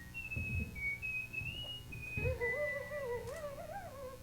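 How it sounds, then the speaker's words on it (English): A penny whistle plays a short wavering melody, a few sustained high notes giving way to a lower warbling line, clear and near with faint background murmur beneath. "And I also play the penny whistle."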